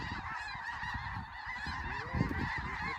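A large flock of snow geese honking continuously during a South Dakota goose hunt, many overlapping calls forming a dense, steady chorus close by.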